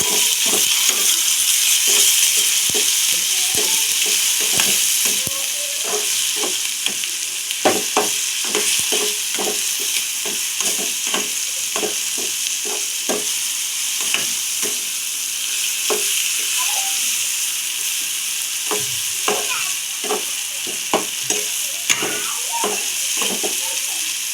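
Salt and turmeric fry in hot oil while being stirred in a pan. A constant sizzle runs throughout under frequent sharp clicks and scrapes of a spoon against the pan, with no talking.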